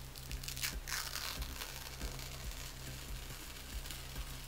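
A faint, close crackling and tearing as a rubbery peel-off face mask is slowly pulled from skin, with small crinkly bursts over a low steady hum.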